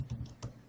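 Quick keystrokes on a computer keyboard while renaming an item in software, a brief burst of four or five light, close clicks with no talk.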